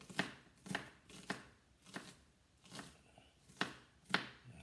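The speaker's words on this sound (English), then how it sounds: "So cut up the seasoning just a little bit." A knife chops seasoning on a cutting board for ground beef and pork dirty rice, giving seven crisp, evenly spaced chops close by, with quiet gaps between strikes.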